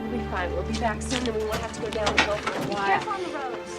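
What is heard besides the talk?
No everyday noises stand out.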